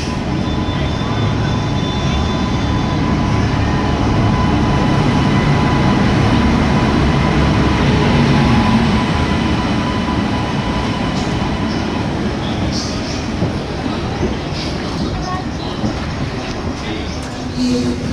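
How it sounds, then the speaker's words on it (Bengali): The Mumbai–Bikaner Ranakpur Express pulls in at the next platform of a Jodhpur station, a loud, continuous rumble of rolling wagons and wheel clatter that fades slightly toward the end, with faint voices underneath. "পাশের প্ল্যাটফর্মে যে ট্রেনটা ঢুকছে এটা হচ্ছে মুম্বাই টু বিকানির রানাকপুর এক্সপ্রেস।"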